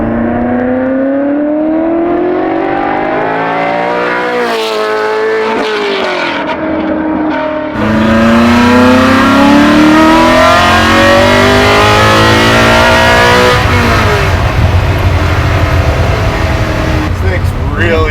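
Custom widebody Ford GT40 restomod engine revving hard nearby, its pitch climbing and dropping through repeated pulls before holding a loud, steady high-rev roar, with people talking at moments.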